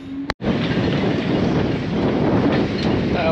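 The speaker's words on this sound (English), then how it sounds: "We're getting the occasional gust up to 30." Strong wind buffets the microphone at a boat dock as Hurricane Hilary arrives, a loud, continuous roaring rush after a brief cutoff at the start.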